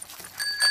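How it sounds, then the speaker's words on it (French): A bicycle bell on a cartoon pig's bike rings with a few bright, high, sustained tones that swell toward the end, fairly close and clear. "Et ici, la sonnette"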